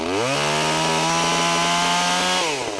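A new, unadjusted carbureted gas commercial chainsaw runs steadily at high revs, loud and close, with a brief dip in pitch at the start and a drop near the end.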